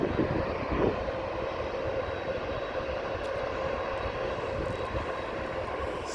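A cargo jet taking off at Amsterdam airport, its engines producing a steady, loud roar that holds fairly even across the whole clip, heard alone without talk.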